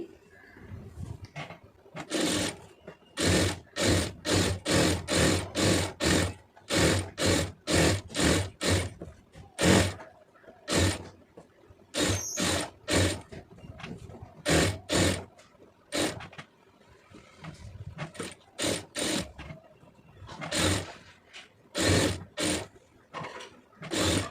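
A sewing machine stitches piping onto fabric in repeated runs of fast, close mechanical chatter, broken by short stops and restarts.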